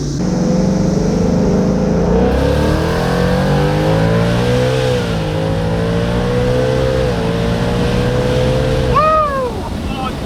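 A supercharged Ford Mustang fitted with a Corsa Xtreme exhaust revs loudly and close by, its engine note rising and falling through several throttle blips before a sharp final rev and drop.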